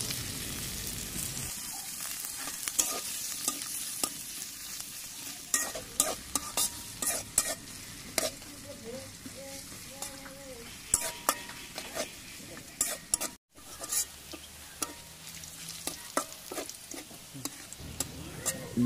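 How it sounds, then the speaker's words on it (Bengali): Chopped onions fry in oil in a pot, a steady close sizzle punctuated by many sharp clinks and scrapes of a spoon stirring against the metal. "এই পাতিলে পেঁয়াজ কুচি দিয়ে এবং তেল দিয়ে ভেজে নেবে।"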